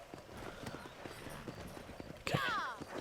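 Horse hooves in the game Red Dead Redemption, a soft rhythmic clopping under background ambience, then a sudden louder whinny-like burst near the end.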